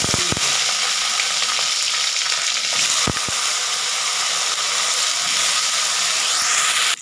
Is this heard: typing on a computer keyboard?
no